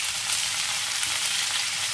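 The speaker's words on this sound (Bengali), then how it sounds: "সবজিগুলো একটু নাড়াচাড়া করে নেওয়ার পর দিয়ে দেব 1 চা চামচ নুন।" Vegetables for shukto fry in a hot pan with a steady, dense sizzle that stays even and close throughout, with faint stirring underneath and no voices.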